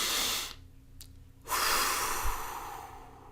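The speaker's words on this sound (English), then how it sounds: "Now close your eyes and take a long, slow, deep breath." A long, slow, deep breath in a guided relaxation exercise: a breathy intake, a short quiet pause, then a long hissing exhale, close and alone.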